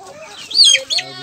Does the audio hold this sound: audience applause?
no